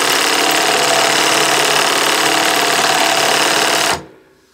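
Industrial sewing machine driven by a Consew Premier 1 hp servo motor, running steadily at high speed with a dense, loud whirring clatter for about four seconds before stopping abruptly.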